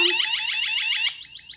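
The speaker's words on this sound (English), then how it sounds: "That's the alarm." A 1byone wireless motion-sensor driveway alarm sounding in alarm mode: a loud, rapid warbling electronic siren pulsing in fast repeated sweeps, close up, with no voices, dropping slightly in level near the end.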